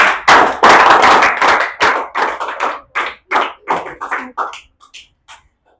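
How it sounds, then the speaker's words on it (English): Audience clapping at an Independence Day program, a burst of many hands that thins into scattered separate claps and fades out, with no talking over it. "let us encourage them by clapping"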